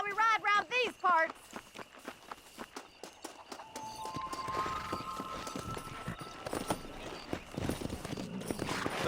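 Horse hooves in the Red Dead Redemption Western game, a rhythmic clip-clop picking up into a gallop beneath a man's speech, with ambient game sounds growing fuller in the second half.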